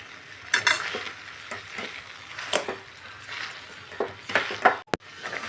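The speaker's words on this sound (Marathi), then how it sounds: "कंटिन्यू हलवत राहायचे, सारखं हलवत राहायचे, जेणेकरून खाली लागायला नको पुरण" A spoon stirring melting sugar and puran filling in a pan: repeated scraping and soft sizzling strokes at close range, with occasional metallic clinks against the pan.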